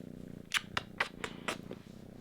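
A cat purring up close, a low steady rumble punctuated by several brief louder rustling bursts.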